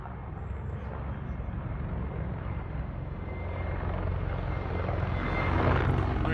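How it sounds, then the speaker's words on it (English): A helicopter's deep, throbbing rotor drone fills the clip, growing gradually louder as it draws nearer, with no voices. "it's just moving on, so it must be a Russian helicopter"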